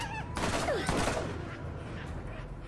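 Automated turret fire in Borderlands, a rapid burst of shots with bird-like chirps over a busy game soundscape, loud at first and then settling into steady background noise.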